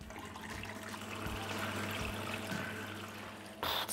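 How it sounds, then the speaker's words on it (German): Water from an established freshwater aquarium is poured steadily into a fish tank, a continuous splashing rush that holds for several seconds before a brighter burst of sloshing at the end. "Wir nehmen Wasser aus Werners Aquarium"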